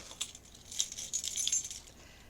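Car keys jingle inside a jacket pocket, a soft, close metallic jangle in a few quick shakes lasting about two seconds.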